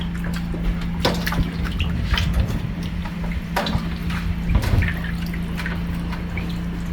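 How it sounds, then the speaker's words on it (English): Steady running water splashing over raw chicken being rinsed, with drips and small splashes throughout, close by and fairly loud. "This is what you're washing off of your chicken."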